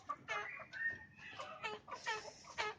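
A hen or rooster recovering from a snoring respiratory illness clucks and vocalizes in a series of short, close calls, harmonic and fairly loud, with no talking.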